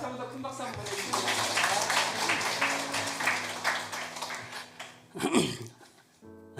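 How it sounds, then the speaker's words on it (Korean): A church congregation applauds during a Sunday service as a member comes forward to give a baptism testimony, dense clapping filling the space with voices and low tones underneath, easing off near the end. "다시 한 번 더 큰 박수 한번 보내주세요."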